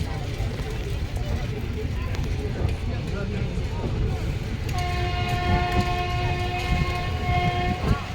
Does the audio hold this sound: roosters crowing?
no